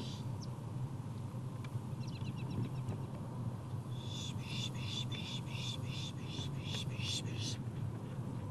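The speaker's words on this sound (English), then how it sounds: "With all the wetland habitats at this park, there's a plethora of red-winged blackbirds to look at." Red-winged blackbirds call in a wetland at Upper Macatawa Natural Area, a series of bright, repeated trilling calls arriving from mid-distance over a steady low background rumble.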